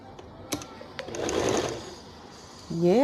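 A sewing machine stitches a seam on a wedding salwar, with scattered clicks and a soft mid-range whir building and fading, then a rising motor whine at the end.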